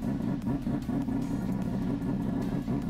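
A Chevrolet Omega drift car fitted with an F1-style engine runs close by, a loud, steady, throbbing idle with a regular pulsing beat and no talking over it.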